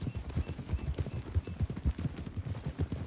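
Horse hooves clip-clopping in Red Dead Redemption 2, a rapid, even trotting rhythm of dull thuds, close and fairly loud, with no speech over it.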